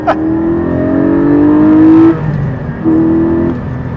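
A Porsche 718 Spyder's engine revs hard under acceleration, rising in pitch for about two seconds, dropping off briefly, then pulling up again, loud and close from inside the car.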